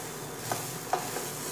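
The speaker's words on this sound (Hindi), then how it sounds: "नारियल, इसे भी हल्का सा भून लेंगे, एक मिनट, ज़्यादा नहीं, बस एक मिनट।" Grated coconut roasts in a pan, giving a steady low sizzle with two soft scraping stirs of a spoon, close and fairly quiet with no talking.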